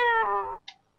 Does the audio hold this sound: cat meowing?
yes